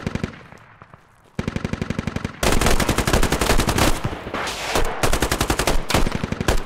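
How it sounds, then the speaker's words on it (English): Machine gun fire in the video game Squad during a battle at Hostomel: loud, rapid sustained bursts of automatic fire, one brief lull, then dense overlapping rattling volleys. "the MG is actually fucking us"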